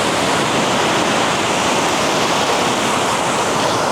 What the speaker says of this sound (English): Got some nice little waves out there too.